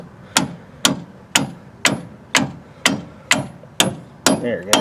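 A hammer taps a strut into place on a Pontiac Grand Am GT near an aluminum brake caliper, eight sharp, evenly spaced metallic strikes about half a second apart, close and crisp.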